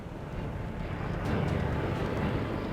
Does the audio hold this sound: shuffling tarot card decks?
no